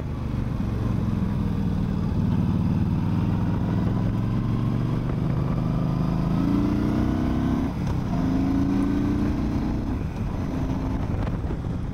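A 2013 Yamaha Stryker motorcycle riding along, its engine droning steadily with slight pitch shifts beneath constant heavy wind buffeting on the microphone.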